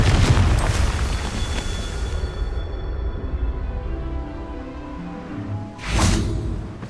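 A Confringo spell explosion in Hogwarts Legacy, a loud, rumbling fiery blast that rolls on for several seconds before a second burst erupts near the end.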